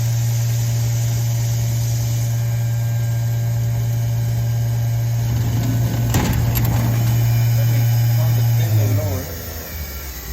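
A CNC machine controlled by Mach3 hums steadily and loudly, then rattles and shakes for a few seconds before its drone drops away near the end.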